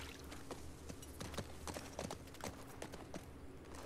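Horse hooves clip-clop in The Last of Us Part II, a brisk, irregular run of sharp knocks at moderate distance over a soft background bed, with no speech.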